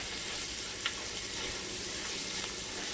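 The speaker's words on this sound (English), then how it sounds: "we'll get those onions in that grease and saute them for about five minutes." Onions sautéing in grease, a constant even sizzle and crackle with a faint tap or two, heard close and alone with no talking.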